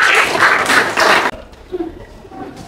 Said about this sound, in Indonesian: Oke, tepuk tangan dulu untuk temennya.